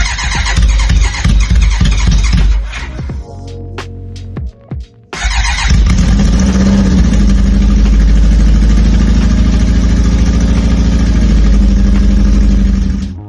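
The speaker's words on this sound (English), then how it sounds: "the bike fired up" A custom BMW cafe racer motorcycle engine runs loud and close, a steady throbbing roar that briefly drops away with a few sharp pops before surging back to a sustained, even drone.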